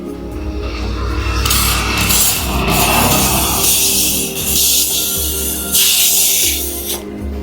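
Hair removal spray sprays from an aerosol can in close, loud hissing bursts that swell and pause several times over about seven seconds, with no voices.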